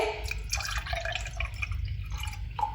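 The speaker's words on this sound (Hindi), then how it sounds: "अब यहाँ पे हम बनाएंगे कच्ची लस्सी। यहाँ पे दूध ले लेंगे" Milk poured into a glass for kachchi lassi makes a close, steady liquid stream with light dripping and splashing that runs continuously for a few seconds, with no talking.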